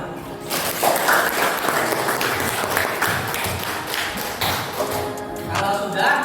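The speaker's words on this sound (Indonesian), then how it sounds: "Tepuk tangan." A high school class applauds in a classroom, irregular bursts of clapping from students rising and falling over several seconds, with some chatter mixed in.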